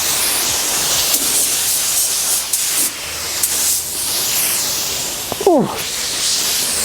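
Clear coat is sprayed onto an RX7 project car in cold weather. A steady, loud, broadband hiss runs nearly throughout, with a short gasp-like exclamation from a voice near the end.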